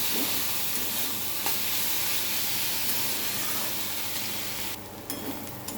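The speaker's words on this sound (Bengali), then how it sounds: "নুন ভালো করে ওটাকে ভেজে নেব" Red lentil dal frying with salt in a pan, giving a steady broadband sizzle and hiss for the whole stretch, with a brief sharper spray of spitting near the end.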